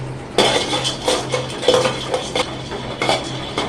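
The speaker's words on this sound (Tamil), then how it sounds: "அதுக்கப்புறம் பொட்டுக்கடலை லைட்டாக ஃப்ரை பண்ணிக்கலாம்." Roasted gram (pottukadalai) is lightly fried in a pan, with a spoon scraping and clinking against the metal in quick, uneven strokes over a faint sizzle and a low steady hum.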